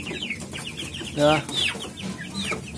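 Several chickens cluck and chatter close by, with a short louder squawk in the middle and a brief spoken word.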